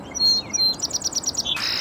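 A wild bird sings close by in a short burst of high, quick chirps and twittering trills, repeated rapidly over a soft outdoor background with no talk.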